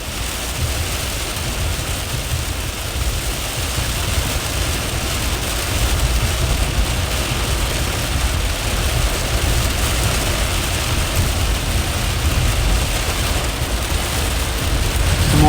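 Very heavy rain falls during a severe summer thunderstorm in the Great Lakes region, a dense, loud, unbroken roar of downpour with no voices.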